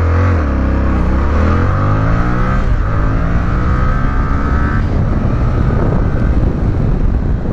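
A 2021 Yamaha Tracer 7 motorcycle with A2 restriction accelerates hard from 0 to 100, the engine revving up through the gears with a loud, steady roar and wind buffeting the microphone.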